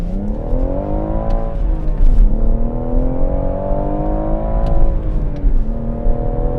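A powerful Mercedes E63 engine revs and accelerates hard on a track at Goodwood, rising in pitch, dipping briefly at a gear change, then climbing again, loud and close.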